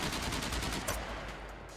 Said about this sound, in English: These gunshots are hitting my building.